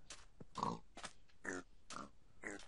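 Pigs in the video game Minecraft give a series of short grunts and oinks, about six separate bursts in quick uneven rhythm, faint and close with no talk over them.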